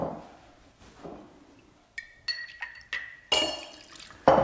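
Gin pours into a glass for a classic martini, a few short liquid splashes and trickles after a quiet start, ending in a brighter burst of pouring, close and moderately loud.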